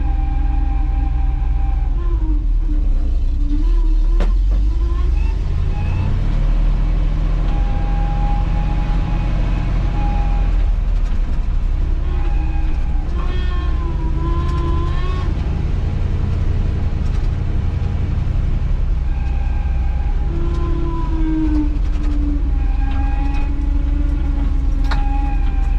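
A loud, rumbling engine of an old farm truck drones continuously as it drives, with shifting tones as it revs and rattles.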